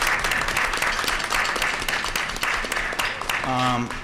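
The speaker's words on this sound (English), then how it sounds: "give me a round of applause for his leadership with the band" Audience applause at a school board meeting honors a student band leader, with many hands clapping in a steady, fairly close burst and a voice briefly heard near the end.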